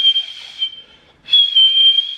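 A thin, wavering whistle holds a shaky high note, breaks off briefly, then resumes louder and steadier, sounding deliberately off.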